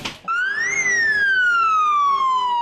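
An ambulance siren from the Komárom, Hungary emergency service wails close and loud, sweeping quickly up in pitch and then sliding slowly down in one long continuous tone.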